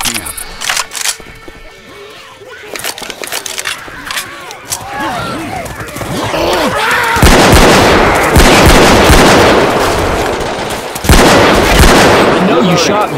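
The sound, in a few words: gunfire in a shooter video game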